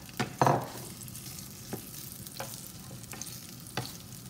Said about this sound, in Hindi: एक टीस्पून घी में हम ये जो हमारा पनीर है इसको रोस्ट करेंगे